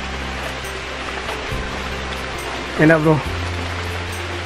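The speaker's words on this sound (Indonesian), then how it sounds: "pas turun ke bawah itu langsung hujan deras" Heavy rain falls in a Kalimantan forest as a steady, close hiss, while someone speaks briefly partway through.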